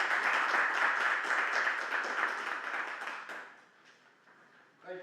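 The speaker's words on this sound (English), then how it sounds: "Just give a round of applause for those teachers." An audience at a school board meeting claps steadily for teachers, a dense sustained patter that gradually thins and fades out as the applause winds down.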